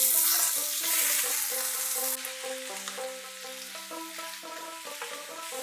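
Loud sizzling of five large tomatoes dropped into hot oil tempered with dried red chilli for Bengali tomato chutney, a bright crackling hiss that settles as a spoon scrapes and stirs the pan, with soft rhythmic clatters throughout.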